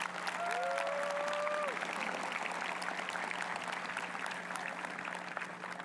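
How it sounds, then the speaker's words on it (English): Steady applause fills a graduation ceremony hall as a board president is welcomed to the podium, sustained clapping from a large audience at even loudness throughout. "a warm round of applause"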